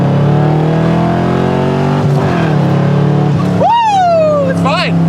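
A 1975 Corvette with a four-speed manual, loud and close, its engine droning at steady revs, then dipping through a gear shift before revving up again with a rising whine.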